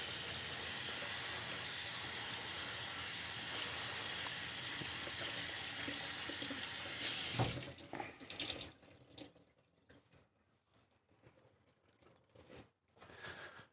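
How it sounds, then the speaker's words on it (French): Parsley is rinsed under a running kitchen tap, a loud steady stream of water that cuts off midway, followed by quieter handling clatter and rustling at the sink. "On va couper du persil. Je le rince."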